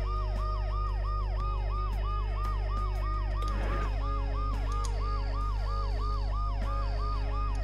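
A wailing ambulance siren from the video game Dead Synchronicity, rising and falling in a steady repeating cycle over a low droning hum, with a brief crash of noise partway through.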